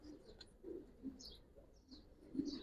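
Giribaz pigeons of the Palla line give soft, low coos in short bursts at a moderate distance, with faint higher chirps between them and no talk.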